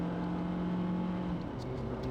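A car accelerating on Highway 6 in Colorado, a steady engine drone from inside the vehicle whose pitch holds and then shifts as speed builds, with road noise underneath.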